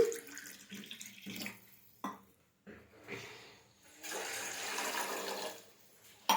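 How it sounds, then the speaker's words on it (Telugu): Water pours into packet milk for tea in a steady stream for a few seconds, with brief clinks and pauses between pours, close by and fairly quiet. "ఒక గ్లాస్ పాలకి ఒక గ్లాస్ వాటర్ పోసుకున్నా"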